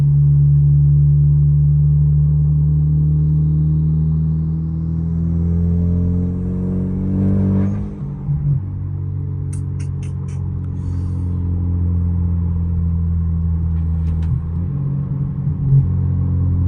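Hyundai Genesis Coupe fitted with an HKS Boulevard exhaust revs and rumbles loudly up close, a deep droning tone climbing and falling through several pulls, with light chirps over the steady engine note.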